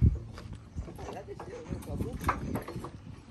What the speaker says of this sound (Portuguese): Desce sozinho esse cavalo?